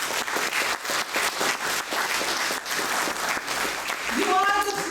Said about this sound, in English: I would love you guys to give yourself one huge round of applause,